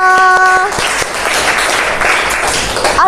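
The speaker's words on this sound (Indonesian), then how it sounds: "tepuk tangan untuk kita semua" Students in an Indonesian classroom break into a short burst of lively applause right after a teacher speaks, clapping dense and close for a few seconds.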